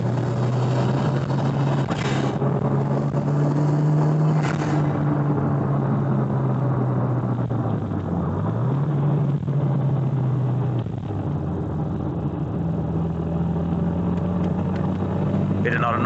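Steady low drone of a turbocharged Toyota 86 engine idling and revving nearby, a deep constant hum with a brief dip in pitch midway and a slight climb near the end.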